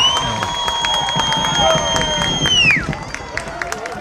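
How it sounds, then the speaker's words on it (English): A crowd cheers and roars after a goal at a boys' high school soccer game between Bridgewater-Raynham and Attleboro. A loud, sustained horn-like tone rides over the noise before sliding down and fading, leaving excited crowd noise. "As you guys perhaps can hear, that went off very well with the crowd."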